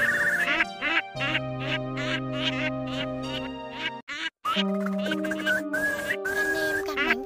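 Eurasian curlew and whimbrel calls played as a bird lure for night netting: loud, repeated whistled and bubbling cries in a rapid series, briefly cut off near the middle, then resuming alone.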